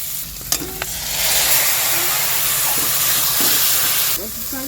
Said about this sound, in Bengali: তেল দেবো, এই শুকনো লঙ্কাগুলো আগে দিয়ে দেবো, ফোড়ন দেবো, পেঁয়াজ দেবো, একটু রসুন দেবো